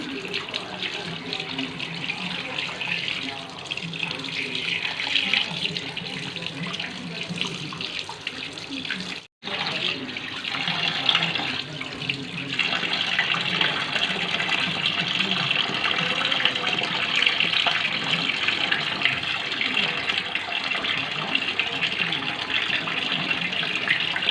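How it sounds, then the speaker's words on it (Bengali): Tap water runs steadily over fish being washed in a kitchen sink, a close, continuous splashing gush that stops for an instant partway through and then carries on, with no voices. "জল দিয়ে ভালো করে, এবং পেটটা পরিষ্কার করে ধুতে হবে যাতে মাছে কোনো নোংরা না থাকে"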